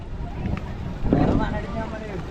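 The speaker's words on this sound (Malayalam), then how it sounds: "ഇങ്ങോട്ട് കുറച്ചും കൂടെ നീക്കി അവര് ബോട്ട് നിർത്തും" A boat on a backwater nears its landing at Sambranikodi island in Kerala, giving a steady broadband rumble of engine and water with wind, while voices murmur in the background.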